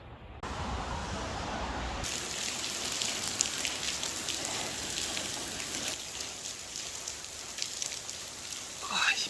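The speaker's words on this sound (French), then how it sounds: "Oh, il pleut tellement." Heavy rain shower pours steadily as a broadband hiss while riding a bicycle on a Seoul to Busan trip, continuous and close throughout with no pauses.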